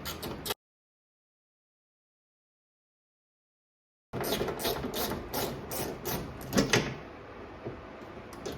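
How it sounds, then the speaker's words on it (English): Bolts are being removed from the rear wiper motor of a Mitsubishi Eclipse. After a brief cut to silence, a tool makes quick, repeated close mechanical clicks, ratcheting in short bursts. "Now we can come back to the motor and finish taking these bolts out."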